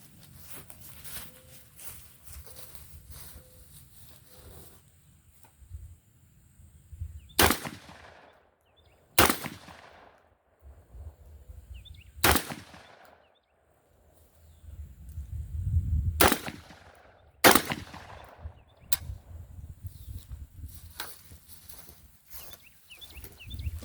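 Shotgun blasts at an outdoor shooting range: five loud, sharp reports spaced a few seconds apart, each with a quick decaying echo, separated by quiet stretches with faint background noise.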